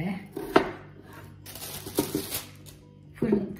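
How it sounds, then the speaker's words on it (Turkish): Several sharp knife chops through peeled potatoes on a board, spaced irregularly, with rustling and handling noises between them. "kabuklarını soyduğum patatesleri şöyle çok küçük olmayacak şekilde 2'ye 4'e bölüyorum."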